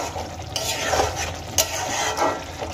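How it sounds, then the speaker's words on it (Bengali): Egg curry gravy with potatoes and coriander leaves stirred in a pan, a steady close scraping and sizzling with a few sharper utensil knocks against the pot, with no talking. "এবার খুব ভালো করে আমি একবার নাড়িয়ে নেব, যাতে করে ধনেপাতার ফ্লেভারটা এই গ্রেভির সঙ্গে খুব ভালো করে মিশে যায়।"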